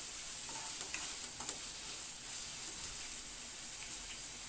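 Finely chopped onions sauté in oil for a brinjal-potato bhaji, a faint even hiss with a few light spoon taps early on, quiet and steady.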